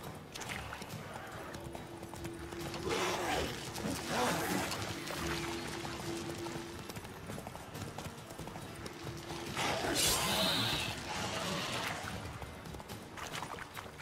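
Hooves clip-clop steadily from a galloping horse in The Witcher 3, a rhythmic clatter under game ambience, with an occasional whinny and a voice talking.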